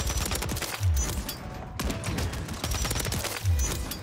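Sustained light machine gun fire from the Pulemyot 762 in Modern Warfare 3, a dense continuous stream of shots with a couple of deeper thuds, loud and close throughout.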